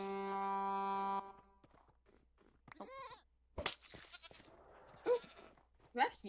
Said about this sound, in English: If I go yellow this session, it's gonna be because a goat knocked me off this cliff one too many times.